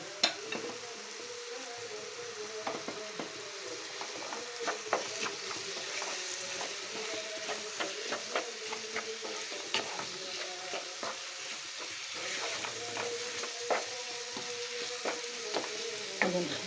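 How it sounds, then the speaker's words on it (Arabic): Onions frying in a pan and being stirred, a soft continuous sizzle broken by frequent scraping and clicking stirring strokes, fairly quiet and steady throughout. "غادي نحرك"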